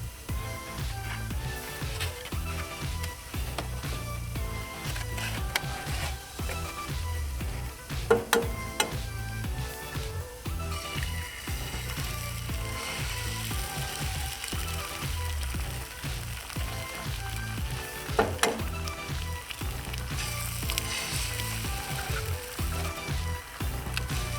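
Oil and a little butter fry on a newly seasoned griddle, a dense, steady sizzle with crackling pops running continuously at moderate loudness.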